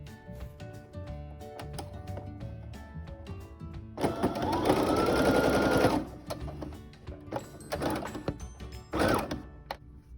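A sewing machine stitches along the edge of a homemade bandana face mask, a steady close whirring run for about two seconds in the middle, with quieter mechanical clicks and handling before and after.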